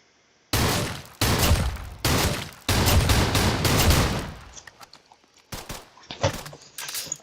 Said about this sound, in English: The Saga's literally an AK with shotgun rounds.